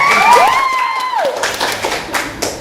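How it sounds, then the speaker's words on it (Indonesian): An audience of school students claps and cheers during a classroom chat session, with a burst of high shouts at the start fading into scattered clapping. "Tepuk tangan."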